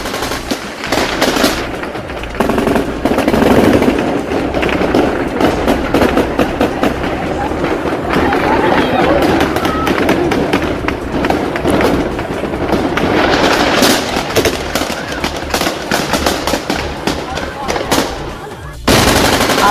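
Automatic gunfire erupts at a street protest in Kabul where women are fired upon, rapid bursts of shots crackling loudly and continuously over crowd noise and commotion for nearly the whole span before a brief pause near the end.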